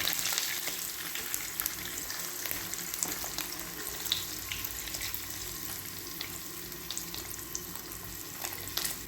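Dried fish (karuvadu) frying in hot oil for a fish curry: a steady, loud crackling sizzle that runs unbroken, with small pops scattered throughout.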